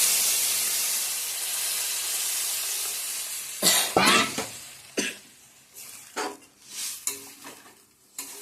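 Raw banana and potato curry frying in a pan, a strong sizzle that fades, then clattering stirring and scraping bursts of utensil on pan as water goes in.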